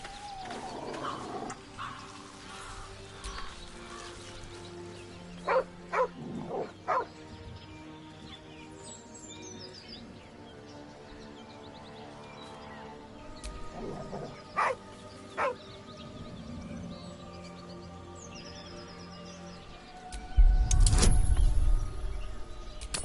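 A dog in the video game Baldur's Gate 3 gives a few short barks and yips amid game ambience and music, followed by a louder burst near the end.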